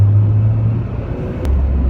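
Close engine rumble of a 2017 Hyundai Accent accelerating during a test drive with traction control cutting in, a steady low drone inside the cabin with no talking.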